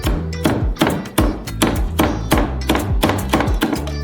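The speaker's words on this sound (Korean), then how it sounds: "민트를 잘게 썰어" A knife chops mint steadily against a cutting board, a quick run of close, even thuds and taps with no talking.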